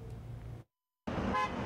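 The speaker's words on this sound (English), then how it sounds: "A chorus of horn honks rang out in front of Fred Meyer" Car horns honking in a chorus at a Black Lives Matter rally in front of a Fred Meyer store in Roseburg, heard as two short bursts of street horn and traffic noise split by a brief silence.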